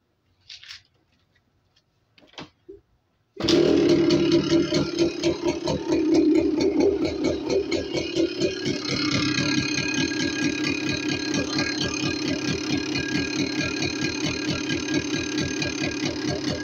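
A Honda RS100 motorcycle engine, its carburetor just tuned, catches after a few faint clicks and settles into a loud, steady, close-up idle with a fast rattling pulse that holds to the end.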